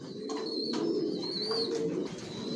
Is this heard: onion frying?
no